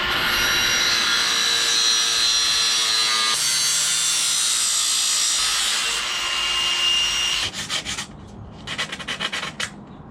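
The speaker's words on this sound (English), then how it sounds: "now I just need to cut the slit in there to allow this to contract when the seat clamp gets clamped down" Saw cutting a slit into the seat tube of a titanium hardtail bike frame, a loud continuous rasping stroke sound that fills most of the clip before breaking into shorter choppy cuts near the end.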